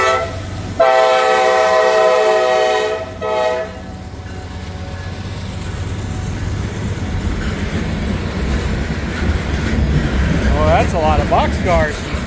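A long freight train of boxcars rolls past close by, its horn blaring loudly at the start, followed by a steady rumble and clatter of wheels over the rails that continues to the end.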